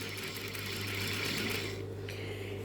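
A sewing machine stitches along the edge of a tablecloth with a steady, continuous mechanical hum and rapid needle chatter, close up and without speech.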